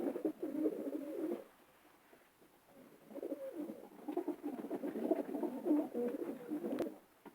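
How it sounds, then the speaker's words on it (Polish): Racing pigeons bred as fast long-distance flyers coo in soft, low, rolling phrases, near and fairly faint, with a short quiet gap before the cooing resumes more busily. "Są to szybkie gołębie na długie dystanse."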